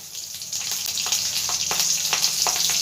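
Green chillies sizzling and popping in hot oil in a pan while preparing a Bengali kharkon bata, a steady crackling fry with sharp spits and pops throughout, close and fairly loud, no voices.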